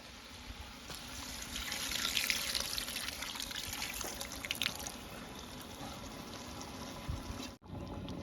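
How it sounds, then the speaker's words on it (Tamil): Chili water poured from a vessel into simmering duck curry makes a steady liquid splashing and trickling, strongest midway, then tapering off before a brief clatter near the end. "நம்ம அடுத்து தண்ணி ஊற்றி கரைச்சி வச்ச மிளகா தண்ணியை இதில் கறியில் ஊற்றிக்கலாம்."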